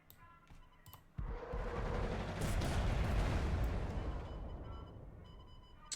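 A tank in the WWII card game KARDS takes fire: a sharp blast lands near the start, then a loud rumbling, crackling barrage of explosions swells and slowly fades over several seconds, with no talking.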